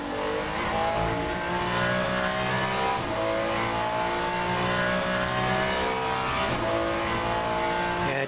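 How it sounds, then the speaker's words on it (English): A GT3 race car in Le Mans Ultimate sliding as the front tyres lose grip, its engine droning loud and close with rising and falling pitch through gear changes. "The car just lost grip on the front."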